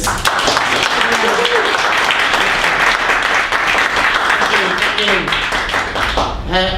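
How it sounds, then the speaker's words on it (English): Audience at a sales talk in Hong Kong gives a warm round of applause for the speaker, loud, full and sustained, with some voices mixed into the crowd noise. "So please give a warm round of applause to Andrew, the sales magician Smith"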